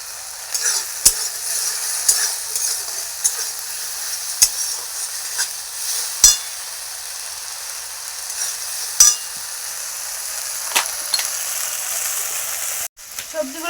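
Vegetables with salt and red chili powder, including pointed gourd and potato for a banana flower curry, sizzle steadily in hot oil, with repeated close clacks and scrapes of a spatula stirring the pan.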